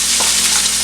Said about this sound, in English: Okay, I think I'm going to add my onions now